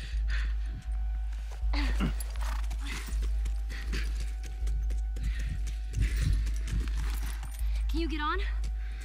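Horse hooves clip-clop in The Last of Us Remastered, a steady rhythm of soft thuds over a low game hum, with a horse snort and a brief whinny near the end.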